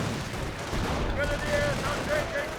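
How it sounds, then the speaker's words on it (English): Grenade explosions and gunfire in the Company of Heroes war game form a continuous, dense rumble of battle noise, with someone talking over it. "We got grenades, assault grenades thrown here."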